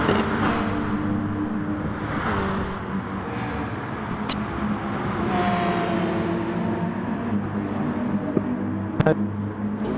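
GR3 race cars roar down the main straight in the Gran Turismo Sport video game, a continuous engine drone with shifting pitch and a couple of sharp clicks, steady and fairly loud.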